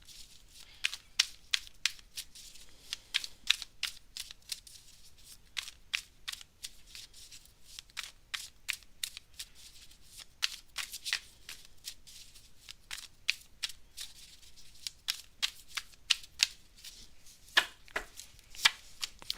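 Tarot cards shuffled by hand during a live reading, giving a long run of crisp riffling flicks in irregular bursts, close and fairly quiet, with no talking.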